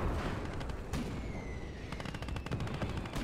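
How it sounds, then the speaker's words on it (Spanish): Machine gun fire in the WWII strategy game Gates of Hell at Mamayev Kurgan, rapid bursts of shots with distant booms beneath, loud and continuous across the clip. "Y con la ametralladora."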